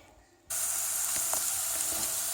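A sudden loud sizzle as peppery milk-cap mushrooms (Lactarius piperatus) hit a hot pan of pork fat, then steady crackling frying continues close up, with faint stirring clicks.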